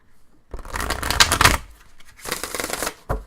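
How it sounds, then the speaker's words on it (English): Oracle cards shuffled by hand in two brisk bursts of riffling and flicking, close and clear, followed by a short final snap of the deck, with no talking. "Do one more shuffle."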